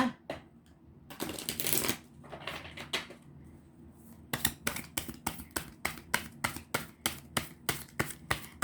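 Tarot cards are shuffled up close: a few bursts of riffling and sliding, then a long run of crisp, evenly spaced slaps as the cards are cut and dropped.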